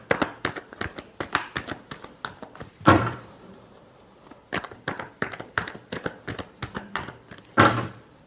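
Tarot cards are shuffled in quick, crisp riffling bursts close up, several rapid flurries separated by short pauses and a couple of sharper taps.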